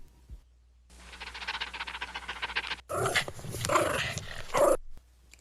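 Dog vocalizing with panting and a low growl, then a louder burst of barking and snarling up close, loud and alone without talk.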